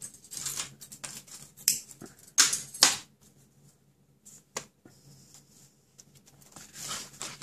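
Scissors cut baker's twine at a craft table, a few close, sharp snips and clicks in short bursts with quiet pauses between them and no talking.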